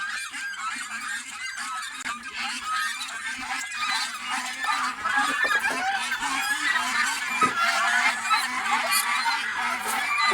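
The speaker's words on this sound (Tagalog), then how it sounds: "Grabe kaingay talaga ng mga gansa." A flock of geese honks loudly and continuously nearby, a dense, raucous chorus of overlapping calls with faint voices underneath.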